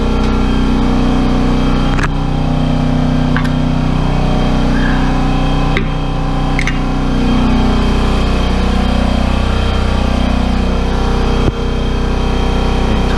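An air compressor runs in a garage during a CV axle repair on a Lincoln Navigator, a loud steady mechanical drone that holds throughout, with a few sharp clanks of tools on top.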